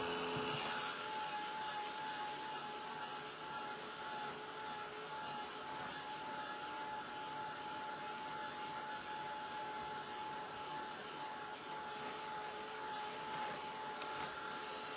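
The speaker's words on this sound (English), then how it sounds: "try to keep my heat gun off of my board" A heat gun blows steadily to dry paint on a wooden board for a vertical leaner, making an unbroken, even rushing hum with a faint tonal whine that stays the same throughout, with no voices.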